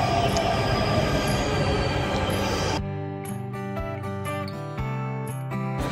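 A Delhi Metro train rumbles and roars past at close range near Uttam Nagar East, wheels squealing, then settles into a quieter rolling hum with rhythmic clatter.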